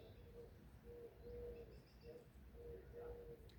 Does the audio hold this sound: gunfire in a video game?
no